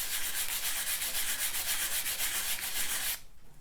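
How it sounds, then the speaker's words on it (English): Steady, close abrasive sanding of a metal signet ring, a hissing rhythmic rasp of back-and-forth strokes that stops abruptly near the end. "So I need to continue sanding to get rid of that Sharpie."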